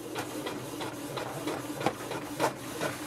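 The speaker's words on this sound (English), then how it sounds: "it will send a command for the printer to print" A Canon TS5040 inkjet printer runs a print job, giving a steady mechanical whir and hum with repeated soft clicks and carriage thumps at a fairly even rhythm, close and moderately quiet with no talking.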